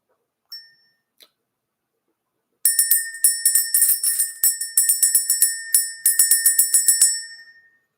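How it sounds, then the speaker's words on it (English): A small bell struck by hand in a quiet room to clear energy: two soft single dings first, then a long, rapid run of bright, ringing strikes that fades out at the end. "Let's go ahead and ring this bell."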